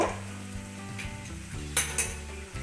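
Onion, tomato and ginger-garlic paste with green chillies sizzle in a pan for a Bengali lote fish dish, a steady low fry broken by a couple of sharp spatula clinks against the metal near the end.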